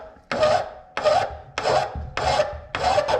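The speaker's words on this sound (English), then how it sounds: "So we need to file this off flat." A metal file rasps back and forth across the peened-over top of a fork nut on a 2006 Kawasaki KDX 200, in five even, close strokes with short pauses between them.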